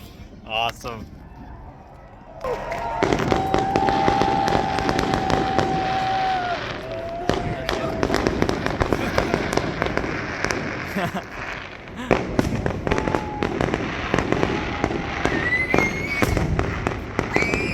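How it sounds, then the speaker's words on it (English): Canada Day fireworks burst in rapid, crackling volleys with loud pops and whistling rockets, close and continuous, while people talk nearby. "Aim at the fireworks."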